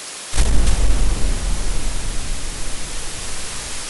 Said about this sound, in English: The thunder is louder now, so we stay inside and wait.